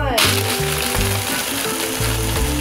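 Blender whirring through a pina colada mixture with ice, a loud continuous grinding roar with shifting pitch as ice chunks break up, running steadily from start to end.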